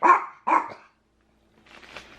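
A dog barks twice in quick succession, loud and close indoors, then after a pause makes softer, muffled yips and snuffling sounds.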